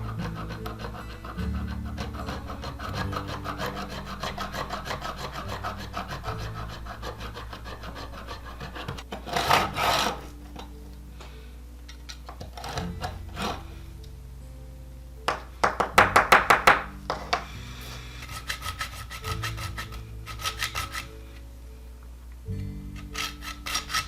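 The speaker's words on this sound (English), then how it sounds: "I cut that off with a hacksaw." A hacksaw cuts through the metal of a Hot Wheels die-cast car in a home workshop, giving quiet rasping back-and-forth strokes with pauses and a few sharper clattering bursts.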